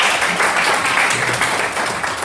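A class of students claps briefly during a mathematics lesson, a short burst of steady, fairly loud applause.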